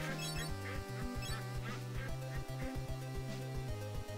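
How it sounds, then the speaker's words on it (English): Cartoonish duck quacks from the Pewdiepie: Legend of the Brofist video game, repeating in quick bursts over bouncy game music and effects, loud and steady throughout. "Look at how I'm just murdering all these ducks."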